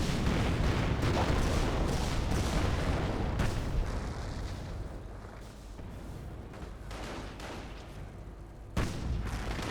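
A sector artillery barrage pounds the ground in Company of Heroes, a dense run of explosions and booming shell impacts that eases off midway, then resumes with a sharp blast near the end.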